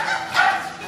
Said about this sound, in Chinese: 你听那边有狗叫